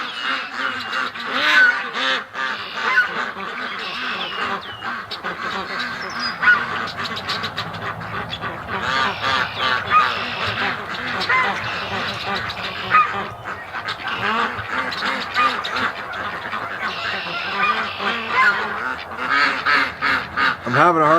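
A large flock of geese on a lake keeps up a loud, continuous clamor of honks and squawks, with ducks quacking among them and someone speaking faintly under the din.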